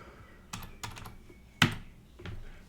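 Keys are tapped on a computer keyboard in a quiet room, a handful of separate clicks with one louder press near the middle, close and fairly soft.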